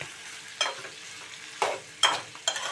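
Bitter gourd and chopped tomatoes cook in a pan over a low flame, with a soft low sizzle broken by four brief scraping stirs of a spoon against the pan.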